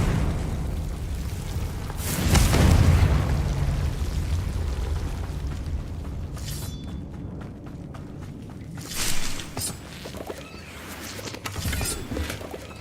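A Confringo fire spell explodes in Hogwarts Legacy with a loud, broad boom and rumbling roar that swells and fades over a couple of seconds, followed by quieter scattered crackles and softer bursts.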